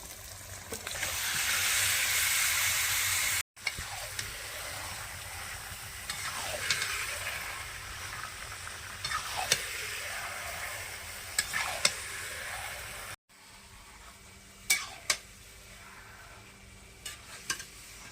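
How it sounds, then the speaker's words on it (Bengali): Chicken pieces go into spiced masala in a hot pan and fry with a constant sizzle, broken by repeated scraping stirs of a spatula. There are a couple of abrupt breaks, and no one speaks. "মশলাটা ভালো করে কষানো হয়ে গেছে এবারে মাংসটা দিয়ে দেব এবারে চিকেনটা দিয়ে দিচ্ছি"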